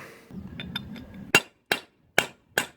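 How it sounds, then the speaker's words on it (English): Four sharp metallic hammer strikes knock out a wheel hub stud on a Ford Fiesta, ringing out at an even pace, each clang close and bright, following a few lighter taps and clinks. "hit it with a hammer, and hopefully then that should then start to knock out this end here."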